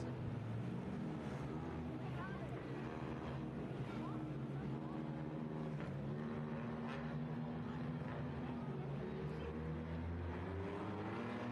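Race cars accelerating off the green flag start at River City Speedway on championship night, a steady blended engine roar with rising harmonic whines, fairly distant, alongside an announcer's voice over the PA.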